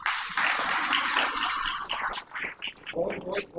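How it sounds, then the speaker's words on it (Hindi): An audience at a Christian healing service in Ghutiyapara claps loudly together for about two seconds. The applause then thins into scattered claps and murmuring voices. "क्या हम यीशु को जोरदार ताली देंगे?"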